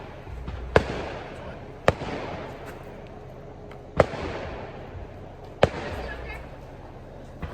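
Fireworks go off at a New Year celebration, with four sharp loud bangs spaced a second or two apart over a steady background rumble.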